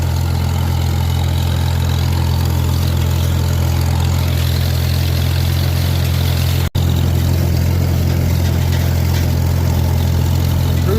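A heavy John Deere 6125R tractor engine drones loud and constant at a steady rumble while cutting orchard grass, with a very brief dropout partway through.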